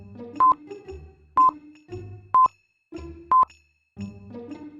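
Four short dialing tones at a steady pace, each a brief bright beep between stretches of low muffled line noise, close and clear.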